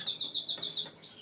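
Northern Dutch frill canaries chirp in a rapid, rhythmic trill of bright repeated notes, close and fairly loud with nothing else over them.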